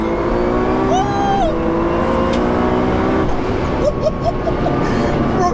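A 1576 bhp Nissan R35 GT-R street car pulls hard under acceleration, its loud, close engine holding a dense, steady roar with a rising rev early on and a few sharp chirps near the end.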